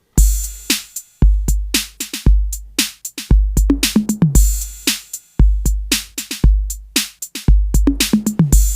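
A dry, unprocessed Roland 606 drum machine break loops steadily: crisp kick, snare and hi-hat hits in a syncopated pattern with no reverb or delay tails, each hit clean and tight.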